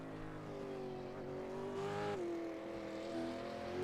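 A supercar in a racing video game set at Montreal screams past with a loud, sustained engine note that climbs in pitch, then drops as it shifts and moves away, with no voices over it.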